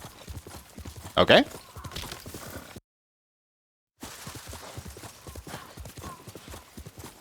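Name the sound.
horse hooves galloping in Ghost of Tsushima video game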